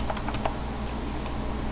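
Someone types a command on a Windows 7 computer keyboard, a short run of quick, light key clicks close by, then fading to quiet.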